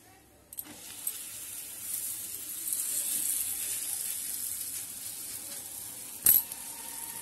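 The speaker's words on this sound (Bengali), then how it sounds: "তাওয়াটা গরম হয়ে গেছে, তেলও দেওয়া হয়ে গেছে, আর এবার আমি পরোটাটা এখানে দিয়ে দেব।" Methi paratha frying in oil on a hot tawa: a steady broadband sizzle builds after a quiet start and holds evenly, with a sharp clatter near the end.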